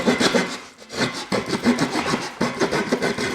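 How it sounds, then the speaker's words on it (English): A small multitool saw blade cutting into a wooden board by hand, giving loud, close, rasping strokes in a steady back-and-forth rhythm with a brief pause about a second in. "I wouldn't want to cut a board in half with this"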